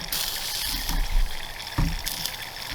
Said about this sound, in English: You can hear the oil sizzling in there